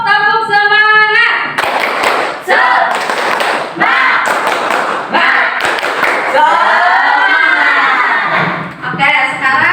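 A classroom of students performs the rhythmic 'tepuk semangat' clapping pattern, loud, near bursts of claps in patterned groups mixed with voices chanting along.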